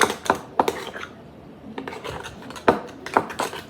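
Slime being stirred and mixed by hand in a container, giving irregular wet clicks and scraping taps in short bursts, close and fairly loud, with quieter gaps between strokes.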